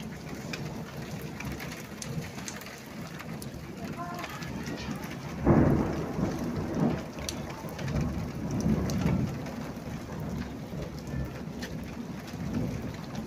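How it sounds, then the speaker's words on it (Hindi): Steady heavy rain pours down with a sudden loud thunder crack partway through, followed by rolling rumbles and continued downpour; faint birds chirp in the background. "बहुत तेज धमाकेदार बारिश हो रही है।"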